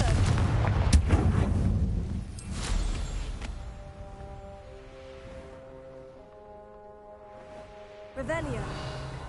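A Confringo fire spell from Hogwarts Legacy bursts loud and close with a booming blast, then a rumbling tail and a low drone, before a second burst near the end.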